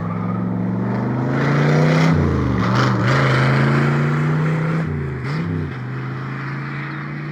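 A 1967 Chevrolet Corvette with a big block V8, in Marina Blue, drives by up close with a loud, throaty engine note that rises and dips as it passes and stays prominent throughout.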